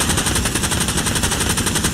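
Sustained automatic fire from an enemy machine gun in the WWII shooter Hell Let Loose, a rapid continuous rattle of shots at steady rhythm, fairly loud and unbroken across the moment with no voices.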